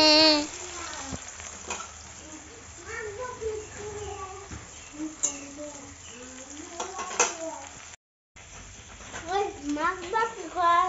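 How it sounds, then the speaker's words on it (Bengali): Fish sizzles as it fries in a pan in a home kitchen. The steady crackle carries on beneath a child's almost constant chatter, with occasional clinks of cookware. "মাছ ভাজা করছে।"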